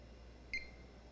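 One brief, high electronic beep chirps from a Dell Alienware X51 R2 computer booting up over faint background hum, then the room settles back to quiet.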